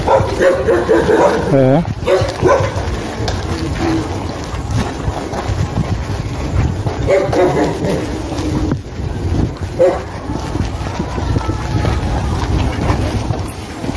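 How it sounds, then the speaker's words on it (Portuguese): A dog barks outdoors near a railway line, a few sharp barks over steady wind rumble and engine-like noise, with a brief spoken interjection. "Aí o cachorro anterior ali latiu pra mim."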